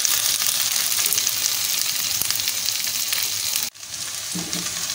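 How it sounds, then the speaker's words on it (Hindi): Okra (lady finger) fries in a pan with a loud, steady sizzle that cuts out abruptly near the end before a quieter sizzle resumes. No one speaks. "दो चार मिनट भिंडी को फ्राई कर लिया है"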